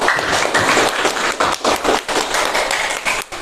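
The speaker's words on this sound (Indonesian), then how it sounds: "Tepuk tangan untuk semua." A classroom of students claps together in a dense burst of applause, close and loud, with uneven, rapid hand claps lasting a few seconds.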